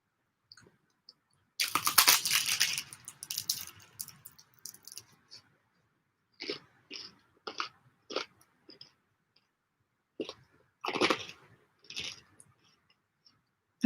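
Someone eats sourdough toast with close, crisp crunching bites, a dense burst first and then a series of separate chews with quiet pauses between them.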